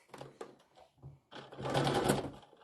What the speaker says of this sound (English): now I'm going to sew that real quick